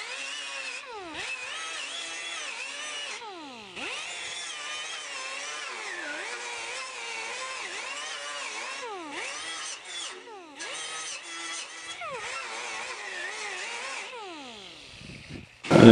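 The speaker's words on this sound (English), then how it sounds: "I'm going to take a rotary wire brush and wire brush so I can reveal those spot welds a little better." A rotary wire brush grinds across a steel car door to expose its spot welds, giving a continuous close whirring scour whose pitch dips and recovers as pressure on the panel changes.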